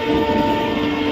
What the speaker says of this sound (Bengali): ওই ট্রেন আসছে, সব সর।